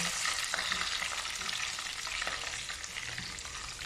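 Bay leaf frying in hot oil while beef igado is being cooked, with a steady, dense sizzle and crackle running the whole time and faint stirring taps now and then, close by and with no talk.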